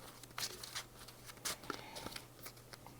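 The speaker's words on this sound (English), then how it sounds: "I'm gonna shuffle up a little bit since I have to draw a card" Trading cards from a Warhammer Horus deck being shuffled by hand, giving a few soft riffling bursts and papery taps, faint and close, with no talk.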